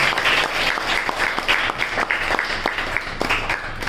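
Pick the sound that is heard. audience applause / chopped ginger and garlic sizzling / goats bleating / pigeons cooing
audience applause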